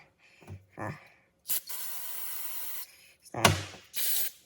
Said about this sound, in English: Spray the bowl, or the float down a little bit.